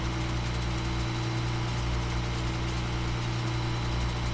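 Airbus A320 engines idling in a flight simulator, a steady continuous drone with strong low hum and a broad airy hiss, unchanging throughout with no talk.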